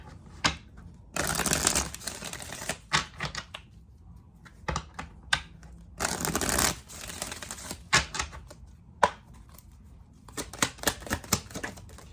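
Cards are shuffled in several quick riffling bursts, crisp and close, separated by short pauses with light tapping and handling sounds.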